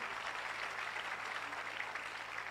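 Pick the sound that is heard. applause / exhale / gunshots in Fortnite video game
applause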